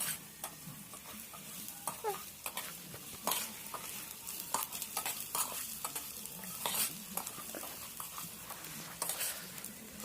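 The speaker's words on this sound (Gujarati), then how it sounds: "હલાવો બરાબર નું." A spoon stirs potato sabji in a pan, giving steady scraping and knocking over a continuous low sizzle, fairly faint, with no voices.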